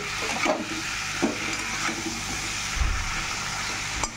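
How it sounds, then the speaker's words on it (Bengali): Chicken pieces seasoned with a little turmeric hiss in a hot pan as they are turned and stirred, a continuous sizzle with soft scrapes and one low thump partway through; no one talks. "মাংসগুলোকে এখন নাড়াচাড়া করে"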